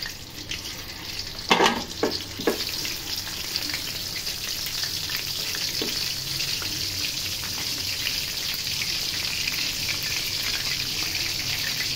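Onions hit a hot pan, with a few sharp clatters and scrapes early on, then a steady, loud hiss of sizzling oil that carries on unbroken to the end.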